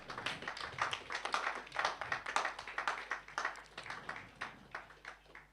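A small audience at a Ghanaian Catholic bishops' conference event on an environmental action programme claps to welcome a speaker, fairly faint, uneven clapping from a modest group.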